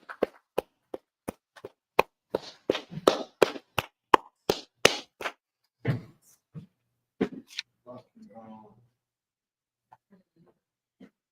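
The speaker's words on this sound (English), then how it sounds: "Clap it up." Sharp, sparse claps in a law class, a dozen or so distinct hand claps in loose rhythm that thin out, with some talking mixed in and near silence afterward.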